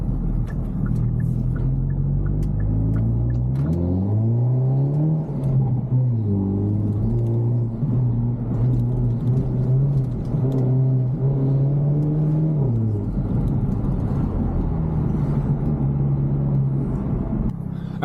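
A Hyundai Elantra N turbo engine drones loudly and steadily from inside the moving car, its pitch rising and falling as it accelerates and shifts over continuous road rumble, with no talking.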